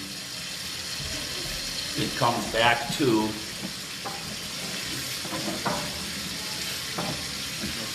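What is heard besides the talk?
water running through drain pipe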